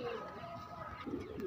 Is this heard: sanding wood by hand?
no